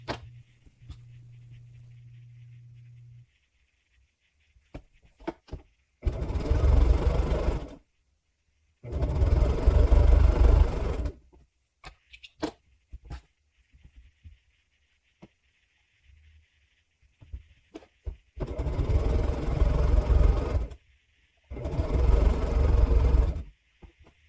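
A sewing machine stitches quilt strip sets together in several bursts of steady, close whirring, each a few seconds long, with quiet pauses and small handling noises between them.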